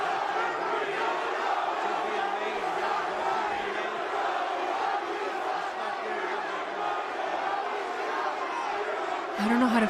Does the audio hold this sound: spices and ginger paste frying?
no